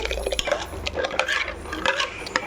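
A spoon stirring murungai and arai keerai greens kootu with coriander powder and turmeric in a pot, with repeated close metallic clinks and scrapes against the pot and soft wet swishing, no talking.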